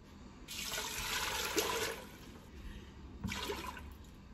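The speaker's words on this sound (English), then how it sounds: "And then 4 to 6 cups of water." Water pouring into a pot for stovetop Christmas potpourri, a close splashing stream for about a second and a half, then a pause and a second shorter pour.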